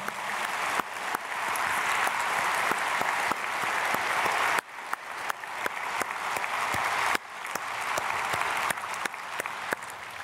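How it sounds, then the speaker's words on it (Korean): Church congregation at an early-morning prayer service applauding loudly and steadily, dense clapping that briefly dips and swells again twice before continuing strong. "우리 크게 박수로 축복하겠습니다."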